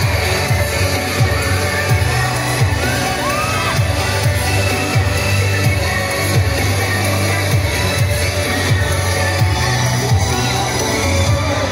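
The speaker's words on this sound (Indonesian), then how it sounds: "mana tepuk tangannya?" A school fashion show audience cheers and shouts with children's voices mixed in, a loud, continuous crowd roar with scattered whoops lasting throughout.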